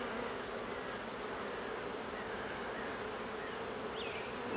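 Honeybees buzz steadily over a hive frame of capped brood, a dense continuous drone held close and even from start to finish with no talking.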